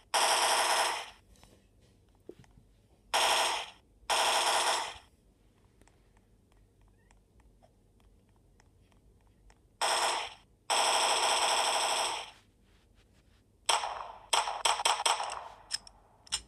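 Bursts of automatic gunfire in a Roblox game, several loud sustained volleys separated by pauses, ending in a rapid string of individual shots.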